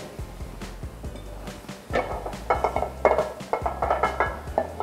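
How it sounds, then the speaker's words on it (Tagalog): A metal pan is set down on a stovetop for cooking chop suey vegetables, giving a few clattering knocks and scrapes of cookware at close range, with no one speaking. "Ngayon, maglalagay ulit tayo ng isang pan."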